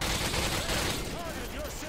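Dense gunfire from the video game Modern Warfare 2, a loud, continuous barrage of shots and explosions filling the whole moment, with radio-style voices mixed in underneath.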